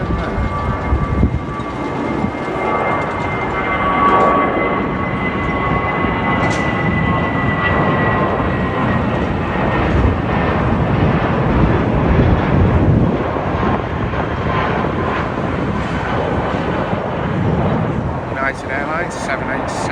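A British Airways Airbus A320 jet departing for Gibraltar gives a loud, sustained engine roar with a faint whining tone threaded through it, and a voice talks over parts of it.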